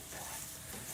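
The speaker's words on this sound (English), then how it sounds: "our bacon is starting to cook." Bacon and rice in a paella pan on a barbecue grill give a steady, soft, dense sizzle throughout, with no talking.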